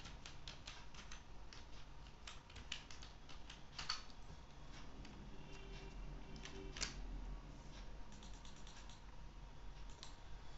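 Quick, light key clicks from a computer keyboard as a sentence is typed in MS Word, a faint, irregular patter of taps over low background hiss.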